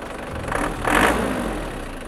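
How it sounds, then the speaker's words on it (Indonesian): An old Isuzu Panther diesel engine idles close by with a low, rattly, knocking chug that swells briefly in the middle, heard alone. "Klasik banget kan suaranya, dia diesel jadul banget lah, kayak dengan suara truk atau bus."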